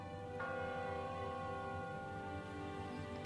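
Church bell rings once with a sustained, resonant chime that slowly fades, moderately faint and heard alone.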